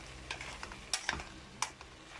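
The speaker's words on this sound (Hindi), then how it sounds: "सेकंड स्टेप ये है जिसमें हम सारी सब्जियां फ्राई कर रहे हैं" Vegetables for white sauce pasta being fried and stirred in a pan give a faint, soft sizzle broken by a few scraping strokes of a spatula.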